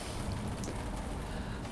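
Rain falls outdoors beside an allotment greenhouse in May, a steady close patter that stays even throughout, with no one speaking.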